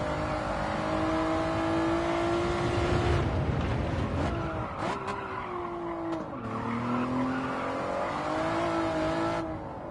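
A Honda NSX racing at Interlagos in Gran Turismo 7, its engine revving and shifting through gears while tires squeal and skid under hard cornering, loud and continuous with pitch dropping and climbing between corners.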